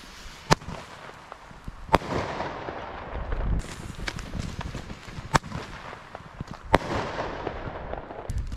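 Double Crusher fireworks going off on New Year's Eve, several sharp loud bangs at irregular intervals over a background of distant crackling and popping from other fireworks.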